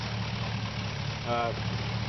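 A pickup truck's 5.3 liter Vortec V8 engine idles with a steady low rumble, and a short tonal whine briefly rises above it partway through.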